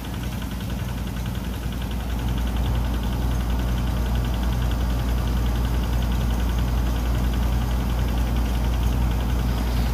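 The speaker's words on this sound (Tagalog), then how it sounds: "Ang ginagamit ko pong spray ay power spray." A small Robin engine drives a Kawasaki power sprayer, droning steadily and loudly throughout, with a constant mechanical hum and broadband hiss, no pauses or voices.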